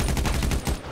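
Rapid automatic gunfire in a video game roleplay server, a tight burst of about a dozen punchy shots in quick rhythm, loud and close, cutting off near the end.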